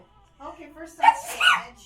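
A sneeze bursts out amid a tabletop role-playing game session, a sharp close outburst followed by a second sneeze-like burst, with people talking around it.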